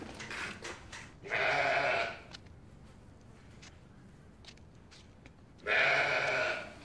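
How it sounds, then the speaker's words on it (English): Sheep bleat loudly twice, a long bleat early and another later, with quieter scattered bleats and outdoor noise between. "Are those sheep?"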